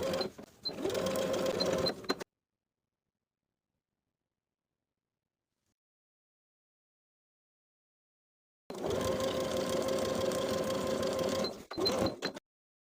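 Sewing machine top stitching a garment collar's seam allowance from shoulder seam to shoulder seam, running in two bursts separated by a long silent pause, the first about two seconds and the second near four, steady and close.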